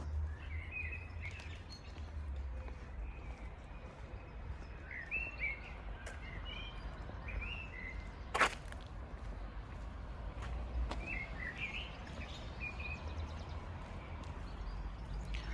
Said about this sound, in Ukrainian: Послухаємо цей неймовірний спів солов'їв.